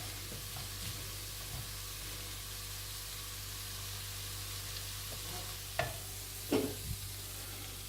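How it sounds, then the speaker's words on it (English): Onions browning in a pan for beef stroganoff, giving a faint, steady sizzle with a couple of brief clinks of a utensil near the end. "You brown the onions so they get flavor, you season them"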